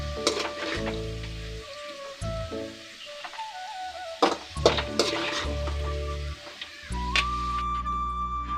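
Cashews and raisins frying in ghee in a pan, with bursts of sizzling that start and stop as they are stirred, close and moderately quiet, with occasional utensil ticks.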